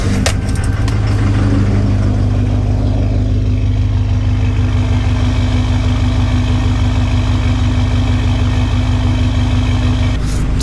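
A diesel truck with glow plugs idling after a cold start, a loud steady low rumble with a constant droning hum throughout, a brief clatter near the beginning and a knock at the end.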